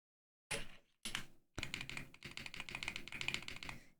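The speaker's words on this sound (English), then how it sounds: "Spacebar sounds nice." Close, crisp typing on a Cyberboard Terminal mechanical keyboard with stable stabilizers, starting with two separate spacebar thocks and then running into a rapid, steady clatter of keystrokes.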